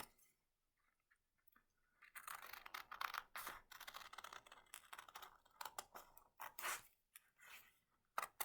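Scissors snipping away paper waste while making an upcycled paper bauble, close, quiet crisp cuts in irregular bursts after a near-silent start.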